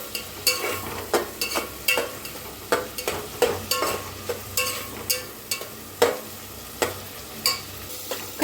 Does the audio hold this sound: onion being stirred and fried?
yes